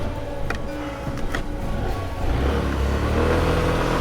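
A SYM Symphony ST200 scooter pulls away, its engine note rising from a steady idle into a louder, fuller drone as it accelerates, close by and with no talking.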